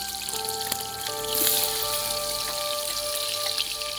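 Onions frying in oil for chicken biryani, a close, steady crackling sizzle, with a faint sustained tonal hum running underneath the whole time.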